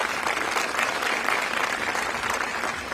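Steady, dense applause from an audience honoring sex-trafficking survivor Rhonda Kuykendall at a Houston Airports event, sustained and fairly close throughout with no break.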